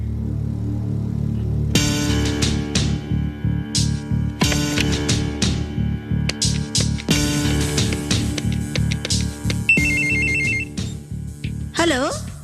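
An old telephone bell rings in repeated bursts at home in a Tamil television serial, fairly loud and regular, with an electronic tone and a warbling sweep near the end and speech heard alongside.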